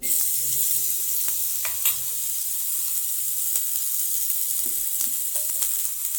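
Butter sizzles on a tava griddle as pav is roasted, a bright, continuous crackling hiss close by, broken by a few soft scrapes and clicks and with no talking.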